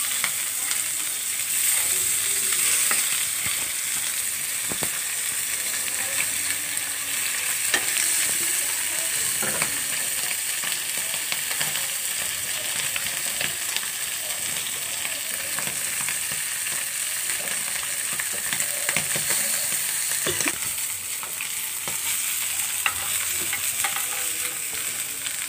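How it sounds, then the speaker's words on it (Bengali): Fish frying in a pan gives off a steady, close sizzle with crackles and occasional spatters, continuing evenly with no voices. "আমার মাছগুলো ভাজা হয়ে গেছে"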